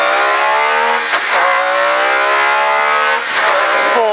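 An MG Metro 6R4 rally car, heard from inside during the Dukeries Rally 2014, holds a loud, sustained engine note at high revs, with brief dips at gear changes.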